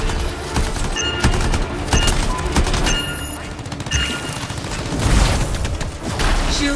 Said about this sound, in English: Explosives ready. Stand clear for detonation.